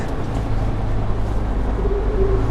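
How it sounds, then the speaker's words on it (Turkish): A Temsa LD SB bus engine rumbles in a low, steady drone, heard from inside with a constant hum and faint rising whine, no speech. "Motor sesi de aşırı bir gelmiyor."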